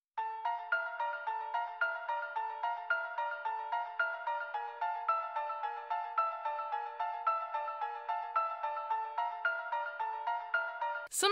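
A theme from Undertale/Deltarune, a simple four-note creepy melody repeated over and over in bright, bell-like tones, steady and clean with nothing else underneath until a short burst at the very end.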